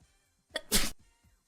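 A baby's single close sneeze: a short intake followed by a loud sharp burst, with quiet before and after.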